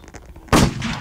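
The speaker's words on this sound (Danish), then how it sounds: "Ja, så skal jeg skyde dig." A single gunshot rings out in a Squid Game video game, a sudden loud broadband blast after a quiet stretch, followed by a sustained noisy tail.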